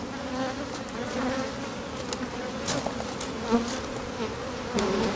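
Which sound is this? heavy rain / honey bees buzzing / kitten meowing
honey bees buzzing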